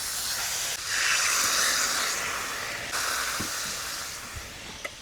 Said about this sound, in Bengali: এবার এতে পরিমাণ মতো দিয়ে দিব জল